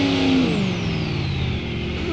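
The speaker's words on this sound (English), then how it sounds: "It does have my exhaust on it though. Which is why it's so much louder than it should be." A car with an aftermarket exhaust in BeamNG.drive roars loud and steady, its engine pitch sliding down as it eases off, close and alone with no talk.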